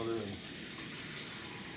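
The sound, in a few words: tap running cold water onto a plate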